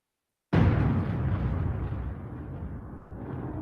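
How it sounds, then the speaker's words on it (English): Thunder breaks suddenly after half a second of silence, a loud, close crack that rolls into a long, slowly fading rumble. "The thunder."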